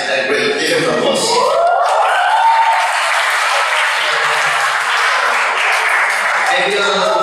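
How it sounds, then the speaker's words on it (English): A room full of people gives a teacher a sustained round of applause, dense and loud clapping that swells quickly and holds steady for several seconds, with a few voices at the start. "Give him applause"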